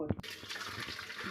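Water pours and splashes steadily into a strainer as boiled greens are drained, a continuous wet rush close by that starts abruptly after a brief clatter.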